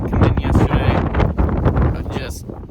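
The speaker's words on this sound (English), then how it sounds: "It is very cold, it's windy" Strong, cold wind from a passing front buffets the microphone outdoors by a farm barn in low, rumbling gusts that roar steadily throughout.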